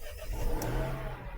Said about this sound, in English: I'm going to start the car.